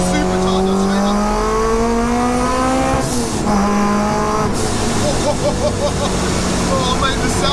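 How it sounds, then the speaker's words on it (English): Supercharged K-swapped Honda Civic coupe time attack car under load, its supercharger whine rising with the revs through gear changes, loud and steady inside the cabin with people talking over it. "The sound of that supercharger straight up."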